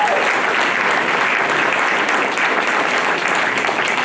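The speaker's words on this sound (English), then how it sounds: "you can go ahead and clap a little louder" An audience at a school district's annual state-of-the-district address breaks into steady, dense applause that holds at an even level throughout, with no speech over it.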